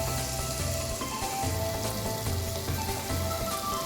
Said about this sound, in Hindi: हम 2 से 3 मिनट तक तकरीबन प्याज और टमाटरों को अच्छे तरीके से फ्राई करेंगे